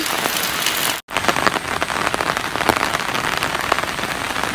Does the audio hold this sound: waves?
no